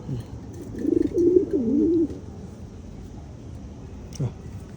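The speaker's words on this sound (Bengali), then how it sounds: "খুব শখের কবুতর আমাদের।" Caged pet pigeons coo nearby in a short rolling phrase over a steady windy outdoor background, followed by a quieter stretch and a brief faint sound near the end.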